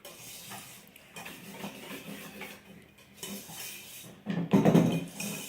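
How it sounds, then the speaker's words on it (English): A bowl of melted Milky Way candy bars gets whisked, giving close, steady clinking and scraping that builds to a louder, busier stretch near the end, with no talking. "I'm going to continue whisking and just get that all set here"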